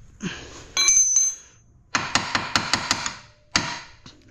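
A hammer strikes a metal part on a Can-Am Defender, ringing out close by: a few isolated hits, then a quick run of six evenly spaced blows, and one more after a pause.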